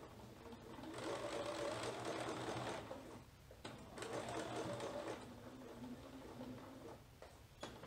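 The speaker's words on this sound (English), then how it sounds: "I'm going to sew straight across." A sewing machine stitches a seam straight across a Vogue 9057 garment, running steadily at close range in two long bursts with a short pause between, then continuing more quietly.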